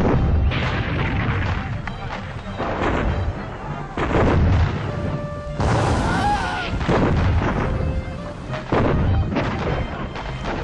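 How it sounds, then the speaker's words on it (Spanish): Ship cannons in the PC game Captain Claw fire a broadside in repeated heavy booms, several loud blasts spread across the stretch with rumbling tails between them. "¡Carguen los cañones y vuelvan a disparar desde el lado ancho del barco!"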